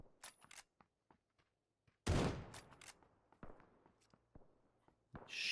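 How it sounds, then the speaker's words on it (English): Gunfire in the PUBG video game as a player shoots at the ground: scattered single shots, then a loud, dense burst of rapid fire around the midpoint, followed by more spaced shots and a final sharp blast. "Shooting the ground."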